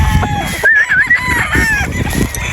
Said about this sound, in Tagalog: hanggang dyan na po yung ating mga manok